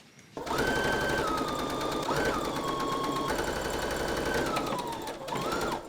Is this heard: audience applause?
no